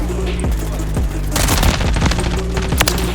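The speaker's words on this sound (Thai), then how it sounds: "ปืนนี้กำลังฮิตๆเลยนะครับแล้วยิงออโต้ได้ด้วย" A rifle fires in automatic bursts in Call of Duty Warzone, loud and close, with rapid rattling shots in clusters and brief pauses between them.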